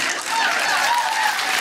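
Audience applause in a live setting, a dense, steady wash of clapping that holds at an even level for under two seconds, with no talk over it.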